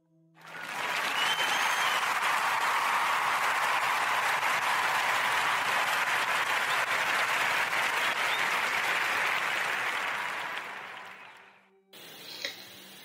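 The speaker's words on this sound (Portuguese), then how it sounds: "eu quero pedir a toda a gente uma grandíssima salva de palmas" Long, full burst of audience applause that swells quickly, holds steady and dense for about ten seconds, then fades out abruptly, leaving a brief quieter tail.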